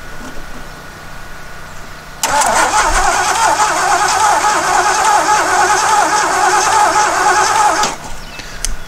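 The engine of a 1977 Jeep CJ-5 that has sat for ten years cranks over for about six seconds, a loud, close, steady whirring churn from the starter that begins and stops abruptly, with no voices.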